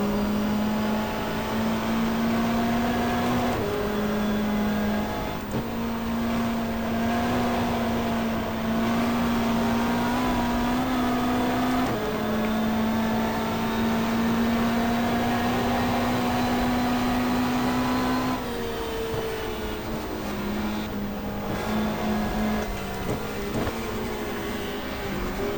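Touring race cars roar around Pukekohe in the 1994 end-of-season 500 enduro, a loud sustained engine drone with shifting pitch and gear changes, no talk over it.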